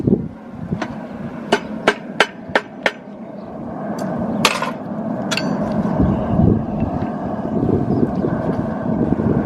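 A farrier strikes white-hot horseshoe steel to cut it, several sharp ringing hammer blows in quick succession, then a few isolated strikes over a steady roar of wind or forge noise.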